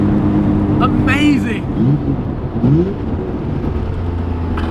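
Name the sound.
RB26 twin turbo Datsun 240Z driving, scrambling for traction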